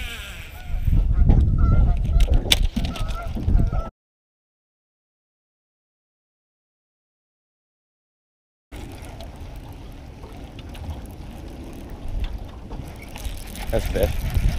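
Geese honk repeatedly near a fishing boat on a lake, several loud calls over wind and water noise, with a stretch of silence partway through and people talking around them.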